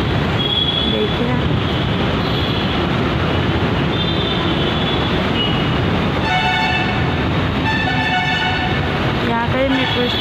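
A metro train at a large elevated station rumbles and hisses steadily, with tonal whines and horn-like toots rising partway through, while voices are heard nearby.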